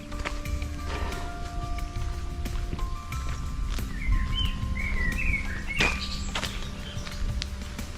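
Birds chirp in short bursts during a walk through a jungle-themed park in Malmö, sitting moderately loud among footsteps, steady outdoor hum and background ambience.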